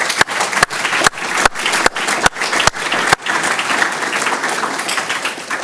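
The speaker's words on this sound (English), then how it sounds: "if we could just give them a round of applause now" An academic audience at a neurology institute's annual address gives sustained applause, a dense even patter of many hands that carries on without pause.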